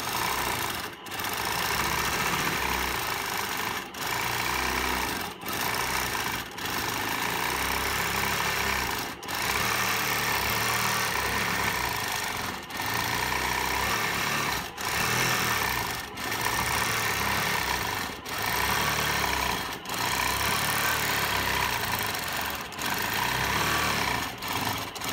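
Sewing machine running continuously for free motion quilting of smoky swirl patterns, a fast, even mechanical whir broken by brief pauses every second or few seconds, close and alone with no talking.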